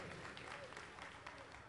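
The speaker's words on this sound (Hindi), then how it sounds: "मैं चाहूंगा कि जोरदार ताली तरुण सागर जी के लिए बजा दें" An audience at a Hindu devotional jagran night gathering in Delhi claps, a brief, faint patter of applause lasting under two seconds, heard alone.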